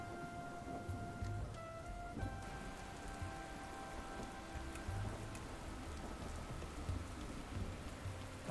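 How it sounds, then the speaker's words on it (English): Heavy rain in the video game Dustland Delivery, a dense steady downpour drumming on surfaces with a faint low rumble underneath and no voices. "Heavy rain."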